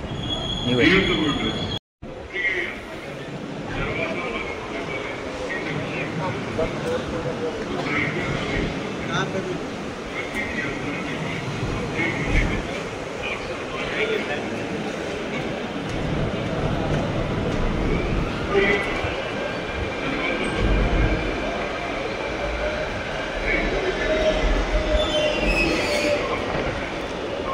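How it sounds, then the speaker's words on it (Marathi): A metro train pulls in and runs along the track with a sustained rumble and squealing wheels that rise and fall, while people talk nearby over the noise. "चला, मेट्रो आलेली आहे,"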